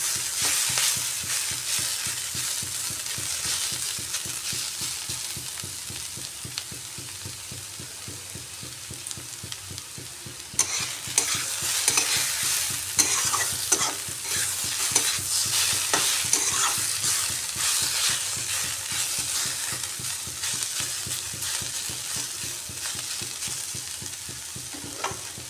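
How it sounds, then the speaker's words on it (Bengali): Prawns and kohlrabi stirred and fried uncovered in a pan, giving a steady close sizzle with scraping stirs that grow busier and louder partway through, with no talking. "এখন আর ঢাকা দেবো না, না দিয়ে একটু নাড়াচাড়া করে ভেজে নিতে হবে।"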